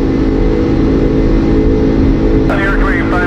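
Airliner engines on American Airlines Flight 587 spool up to climb power in a steady, loud roar inside the cockpit, with a voice cutting in near the end.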